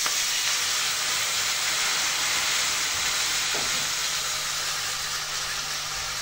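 Water poured into a kadai of hot oil for fish head curry (muri ghonto) sets off a loud, steady, close sizzling hiss that holds evenly throughout.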